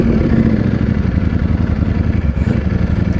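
A Ducati Streetfighter V4S motorcycle engine runs at a Cars and Coffee meet, a loud, close, steady rumble with a rough, clattering texture that holds unbroken throughout, with no talking.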